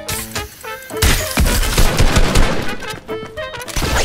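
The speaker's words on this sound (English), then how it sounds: "He's just shooting the air." Chaotic video game gunfire with overlapping shots, crashes and rapid bursts, busy and fairly loud throughout, in a multiplayer shooter match.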